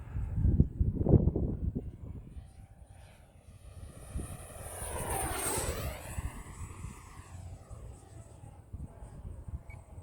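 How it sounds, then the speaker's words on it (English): A small RC model L-39 jet with a 12-blade 64mm electric ducted fan whooshes past overhead, its whine rising and falling as it flies by, with wind noise and faint talk nearby. "with that 12 blade EDF unit, it does sound really sweet in the air."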